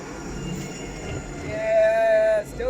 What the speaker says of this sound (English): Tram 232 and it's stopping.